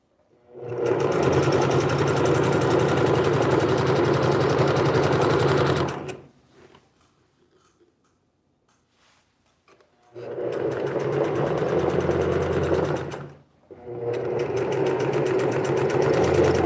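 A sewing machine stitches yellow ruffles with a loud, steady mechanical whir in long runs, stopping for a few seconds of near quiet before starting again, with a short pause between the last two runs.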